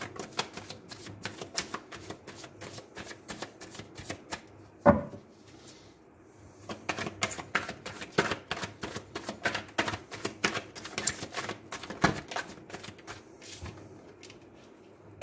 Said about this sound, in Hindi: आपके ही आगे मैं कार्ड्स को शफल करूंगा